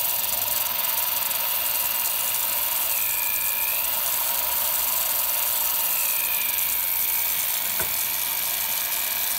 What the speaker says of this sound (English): Push harder on the drill.